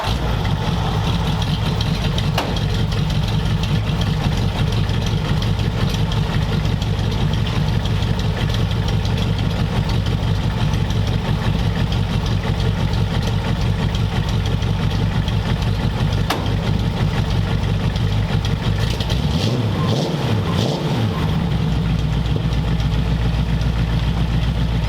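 A hot rod roadster engine with a custom exhaust idles steadily and loudly up close, a continuous low rumble with a brief throttle blip near the end.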